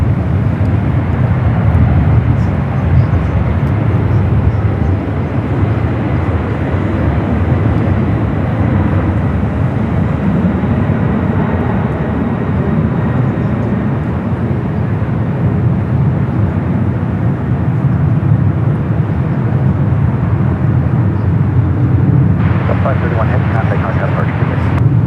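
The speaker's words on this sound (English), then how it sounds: "Delta 767 300 ER. So it heads back toward the east." A Delta Boeing 767-300ER jet airliner at San Francisco airport gives a steady, loud broadband roar that holds for the whole stretch. A voice talks over it.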